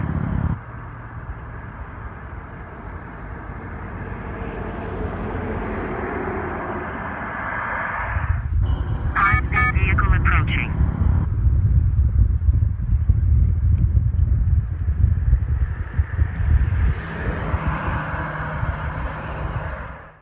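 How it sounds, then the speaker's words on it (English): A high-speed vehicle approaches a cyclist on the road, its rumble swelling from a distant wash into a loud, close roar under steady wind noise, with a brief electronic alert tone sounding midway. "High-speed vehicle approaching."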